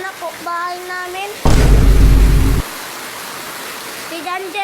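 Heavy rain pours down during a typhoon, a loud, dense broadband roar that bursts in suddenly for about a second and stops, with a voice and tonal sounds before and after it.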